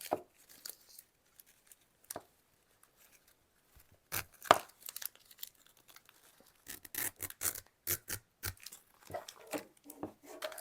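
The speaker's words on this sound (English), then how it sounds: "I'm just going to take a little snip there and rip it down" Fabric cut with a quick snip and then ripped by hand for holly tabs in a slow-stitch Christmas journal project, heard as sparse quiet rustles that turn into a cluster of sharp, close tearing bursts.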